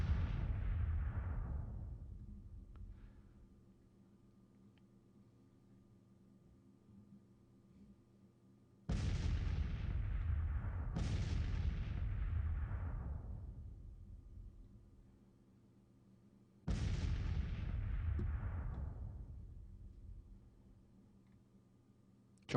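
Twelve-pound Civil War artillery guns boom in Grand Tactician, four deep heavy blasts arriving in two pairs, each rolling off into a long fading rumble over a low ambient hum.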